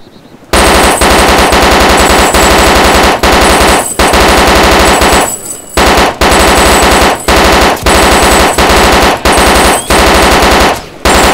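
Automatic gunfire in the DayZ Overpoch mod comes as loud, sustained rapid bursts broken by a few brief pauses, close and dominant throughout.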